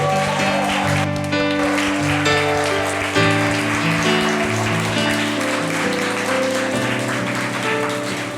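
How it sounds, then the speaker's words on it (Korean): A church congregation at a Wednesday worship service claps to welcome newcomers, a crackling patter of hands heard beneath sustained keyboard or organ music that plays throughout. "환영의 박수 크게 쳐주세요."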